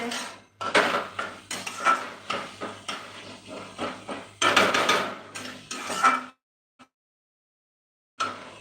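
Banana stem fry is stirred in a pot with metal utensils, producing repeated scraping clanks and rattles in quick bursts, close and fairly loud, then a short quiet stretch before one last clink.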